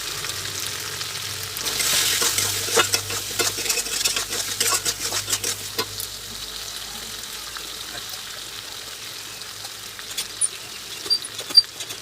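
Spice paste of cumin, black pepper and dried red chilli with green chilli, turmeric and salt sizzling and frying in oil while being stirred, louder in the first seconds with scraping pan touches, then settling to a steady quiet sizzle.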